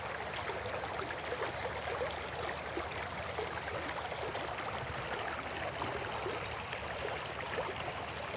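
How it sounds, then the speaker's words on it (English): A stream in a natural outdoor setting, its water flowing in a steady, even rush that hisses softly and holds at a moderate level throughout, with no voices or other sounds. "Do you feel calm and peaceful while hearing the water and seeing this beautiful creature?"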